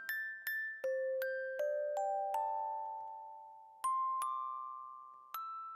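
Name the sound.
synthesized bells played in the spelldosa iOS app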